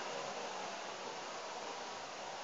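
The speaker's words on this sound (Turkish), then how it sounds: "Evet süpürge çalışıyor." A vacuum cleaner runs steadily at close range, making a constant broadband whoosh with no change in level from start to finish and no voices over it.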